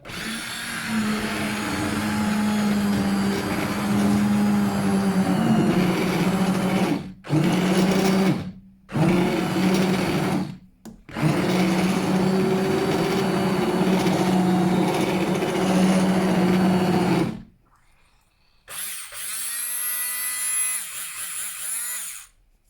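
A kitchen blender whirs loudly and steadily as it purées tomato soup until smooth, running in long bursts broken by a few short pauses before cutting off, followed by a lighter, higher motor spin at the end.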